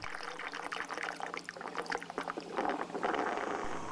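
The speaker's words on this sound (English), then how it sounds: "The water flows in a spiral space curve, in Victor Schauberger's view" Water flows and swirls in a spiral through a pipe, giving a steady rushing, gurgling pour with uneven splashy surges, moderately quiet and close.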